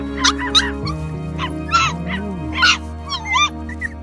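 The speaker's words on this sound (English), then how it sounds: "other puppies appeared and ran towards the people" Abandoned two-month-old puppies found in the open, a cluster of close high-pitched yips, whimpers and short barks in quick succession, with a whining rising-and-falling tone among them.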